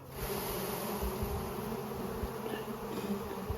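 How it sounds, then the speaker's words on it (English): Honey bees shaken off brood frames in a hive, a dense steady buzzing swarm close by, continuous for a few seconds with no voices. "So just shake these bees off."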